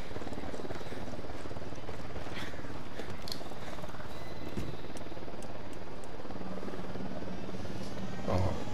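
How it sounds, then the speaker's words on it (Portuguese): Helicopter in Ghost Recon Wildlands drones with a steady rotor hum over a constant background wash, holding an even level throughout with no voices heard. "Tem um helicóptero ao caminho."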